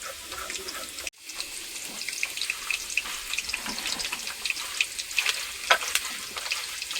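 Running water while raw prawns are washed in a home kitchen, a steady close splashing with small clinks and handling noises, no talking.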